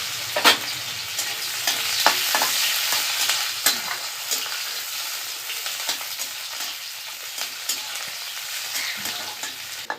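Chopped onions frying with cumin seeds in a pan, a steady close sizzle with frequent scraping and clicking from stirring throughout, no talking.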